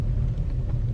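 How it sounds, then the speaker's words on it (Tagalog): A car pulls into a Chevrolet service garage, its engine and tires making a steady low rumble throughout with no voices over it. "papasok yung sasakyan ko dito sa loob."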